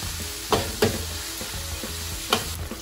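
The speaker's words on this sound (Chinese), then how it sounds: "我炒香这个肉碎，然后这个冬菇这边大概有5粒哈，我蒸了它，然后切片了。 就这样慢慢炒香它。" Minced meat and sliced steamed shiitake mushrooms stir-frying in a pan, a steady sizzle with a few sharp clicks of a spatula striking the pan, no voices.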